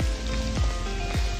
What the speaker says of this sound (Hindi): देखो मौसम बहुत बेकार हो रहा है और अभी भी पड़ रही है बारिश